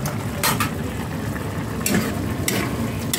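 Pinakbet vegetables being stirred and cooked in a pan, with a steady sizzle and occasional scraping bursts of a utensil against the pan, close and continuous, with no talking.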